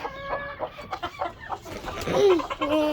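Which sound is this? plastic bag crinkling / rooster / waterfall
rooster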